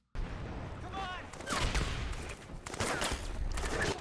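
Battlefield gunfire from the Iwo Jima episode of the war drama The Pacific, with dense bursts of rifle and machine-gun fire and bullets whizzing past, loud and continuous, mixed with shouting voices.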